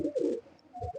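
A pigeon gives two short, low, throaty coos close by in a loft of silver pigeons, with a brief quiet gap between them.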